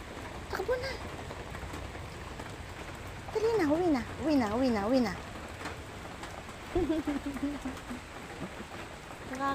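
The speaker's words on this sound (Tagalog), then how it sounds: "Ayan na, lakas na ng ulan, oh." Steady rain hisses over everything while a voice talks over it in short bursts, the downpour continuing without a break.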